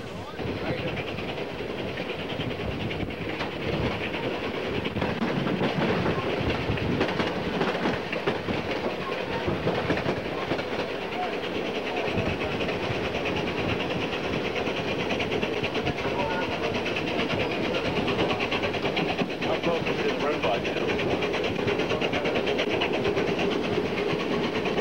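Locomotives run past on a railway line during a 1987 run-by, each engine in regular service and one pulling 49 hoppers and a caboose. A loud, continuous rumble and clatter of rolling stock fills the whole stretch.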